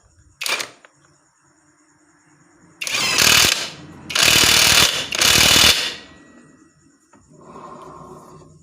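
A Kamolee DTW285 cordless impact wrench tightening a bolt: a brief click, then three loud rattling hammering bursts close up, separated by short gaps, followed by a quieter mechanical whir, no voices.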